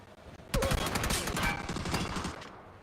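Rapid automatic gunfire bursts loud and close during an aggressive squad push in PUBG at a pro league grand final, with a dense rattling volley running nearly three seconds after a brief quiet start.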